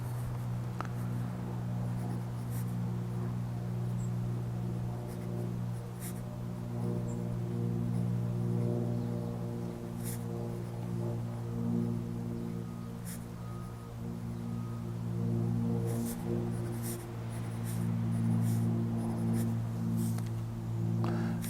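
A Diplomat Aero fountain pen nib moves across paper in soft, intermittent scratches and strokes, faint against a steady low hum, with brief pauses between bursts of writing.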